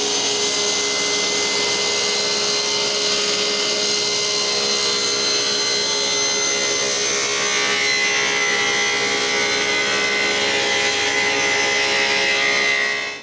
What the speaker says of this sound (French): j'ai juste à baisser la lame à la bonne hauteur et de faire la coupe en angle